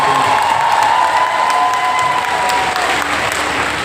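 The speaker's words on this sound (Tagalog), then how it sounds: "Isang malakas na palakpak muli sa Ama." Loud applause fills a church congregation, a dense, sustained clapping with scattered cheers and a high ringing tone running through it.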